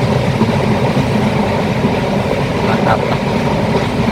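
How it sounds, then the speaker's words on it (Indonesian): A passing train gives a loud, steady rumble throughout, with a voice briefly over it. "Nah, suara kereta."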